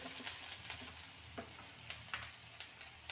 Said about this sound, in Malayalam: ഇതിലേക്ക് ആവശ്യത്തിന് ഉപ്പ് ഇട്ട് നിറക്കെ വെള്ളവും ഒഴിച്ച് ഒന്നുകൂടെ ഒന്ന് ഇളക്കി